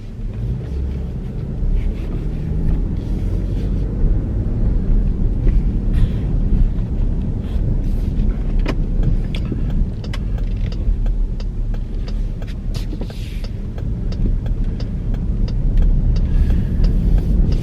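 Steady interior rumble of a car driving through a Zionsville neighborhood, with constant low engine and road noise and light wind, close and continuous with no voices.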